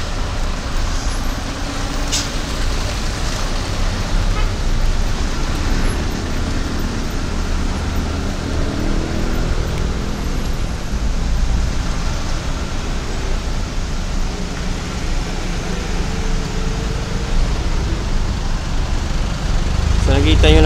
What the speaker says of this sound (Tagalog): At titingnan nyo yung mga sasakyan, napakadaming sasakyan